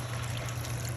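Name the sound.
pouring water into chicken korma pot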